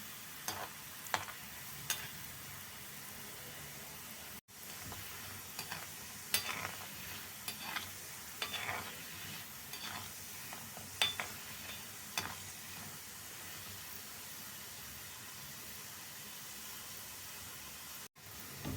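Salted seedai, small rice-flour balls for Krishna Jayanthi, fry in hot oil with a steady soft sizzle and hiss, punctuated by occasional stirring clinks and scrapes, with no talking.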